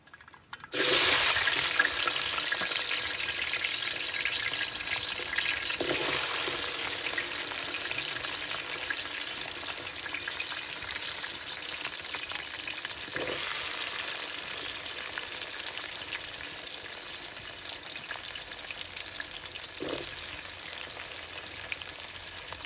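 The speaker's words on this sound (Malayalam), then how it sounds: "ഇനി നമുക്ക് നമ്മുടെ ചുവന്നുള്ളി ഇട്ട് കൊടുക്കാം" Shallots drop into hot oil with crackling mustard seeds for an Idukki-style botti curry. A loud, steady sizzle starts at once and holds throughout, with a few sharper pops and spatters now and then.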